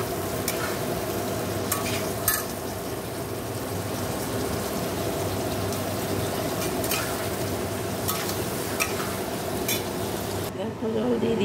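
Cumin, coriander, Kashmiri chili powder, turmeric and salt fry in a pan, making a steady sizzle close by. Scraping stir strokes come through now and then, along with a few louder clinks.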